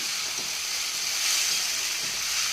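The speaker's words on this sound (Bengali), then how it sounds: "এবার নাড়িয়ে চাড়িয়ে মিশিয়ে নেব" Sabudana pulao with nuts, raisins and chopped green chilli being stirred in a pan, a steady soft sizzle and hiss throughout with faint scraping, no voices.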